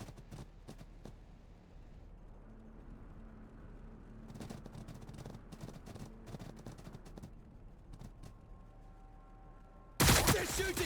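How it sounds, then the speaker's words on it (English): Gunfire crackles through a Warhammer 40,000 video game battle between Astra Militarum and Tyranids, with sharp rapid shots and bursts, fairly faint and distant, before a loud blast near the end. "They're shooting back."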